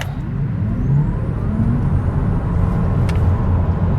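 A Tesla Model 3 Performance electric car whirs and drones close by under hard braking, a steady rushing vehicle noise with a brief sharper burst partway through.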